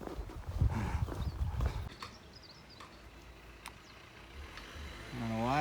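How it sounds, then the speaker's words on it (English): Mule hooves clip-clop in a quick rhythm for a couple of seconds, then fade into outdoor background noise as an engine rises near the end. "those half donkey, half horses"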